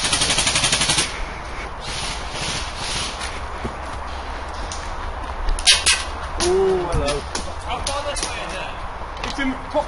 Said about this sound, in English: There's shooting going on this way